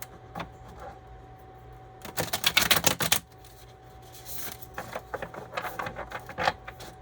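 A rapid burst of crisp riffling clicks as a tarot deck is shuffled, followed by a second, softer and more scattered round of shuffling.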